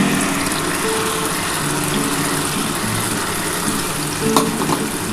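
Water spinach leaf paste fries in a pan, a loud steady sizzle with occasional stirring scrapes and no talking.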